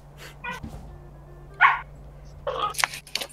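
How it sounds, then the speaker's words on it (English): A dog barks and yips in short, sharp bursts, one loud bark standing out followed by a quicker cluster, heard during a VALORANT match over a low steady hum. "What's that dog? It's distracting me."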